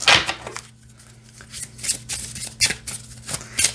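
A gilded-edge tarot deck is shuffled by hand, with quick riffling bursts and soft card slaps recurring in irregular bursts, close and fairly quiet, with no talking.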